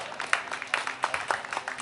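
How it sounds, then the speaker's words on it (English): An outdoor political gathering in Pickett, Arkansas, with a small crowd clapping for a lieutenant governor candidate, giving a brief, light, fairly sparse patter of hand claps. "give John a round of applause"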